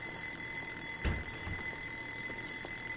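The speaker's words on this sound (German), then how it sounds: "Das muss ja irgendwie so eine Eieruhr sein oder irgendwie sowas." An egg timer rings in the diner video game Joe's Diner, a steady high metallic ringing tone that continues evenly throughout, with a brief thump near the middle and no speech.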